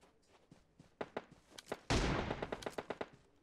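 Gunfire in the PUBG Mobile (BGMI) battle royale game comes as a rapid string of sharp shots, with one loud close burst partway through, and no talking.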